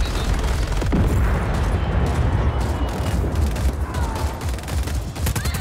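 Dense, continuous gunfire from the video game Just Cause 4, with rapid overlapping shots and heavy booms forming a loud, relentless barrage throughout.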